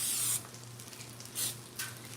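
Cooking spray is sprayed onto a donut pan in short hissing bursts, three brief sprays with quieter gaps between them, close by.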